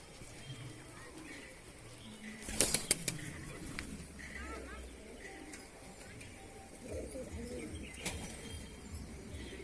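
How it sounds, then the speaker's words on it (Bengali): Pigeons taking off with a brief burst of flapping wings around the three-second mark, then faint rustling and a later flutter over steady outdoor background noise, no clear talk. "বন্ধুরা পায়রা চলে যাচ্ছে"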